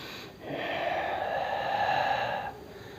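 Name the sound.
Ujjayi pranayama ocean breath through lightly contracted throat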